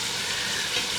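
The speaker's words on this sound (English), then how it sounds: "It's still bubbling quite hard" Lamb's fry bubbling hard in a camp oven, a steady dense sizzle and crackle held close and fairly quiet, with no talk over it.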